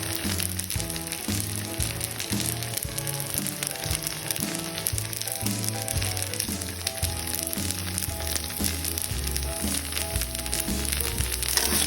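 Sukiyaki sizzles and crackles steadily in a hot pan as it is stir-fried, a loud, continuous frying hiss with rhythmic low thumps from the stirring running through the whole stretch.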